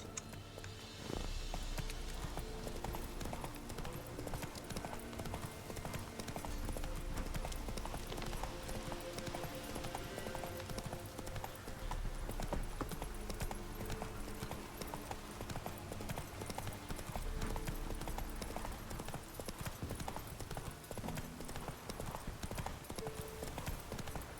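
Roach, a horse in The Witcher 3, gallops in a steady clip-clop of hooves throughout, loud and close, with an occasional whinny over layered game music and ambience.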